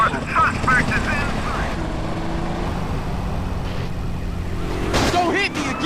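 Police helicopter in the video game GTA San Andreas, a steady rotor and engine drone running through the whole stretch amid game sound effects and a brief siren-like burst near the end, with characters talking over it.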